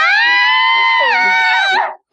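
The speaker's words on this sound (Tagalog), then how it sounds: "Parang may narinig akong sigaw sa labas." A long, piercing high-pitched scream that holds steady for nearly two seconds, then wavers and cuts off abruptly.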